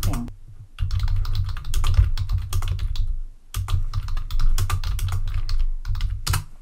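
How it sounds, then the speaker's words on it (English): Rapid typing on a computer keyboard in Excel, with close, crisp key clicks in quick bursts and a couple of brief pauses between runs. "hold down Alt and hit the Enter key and carry on"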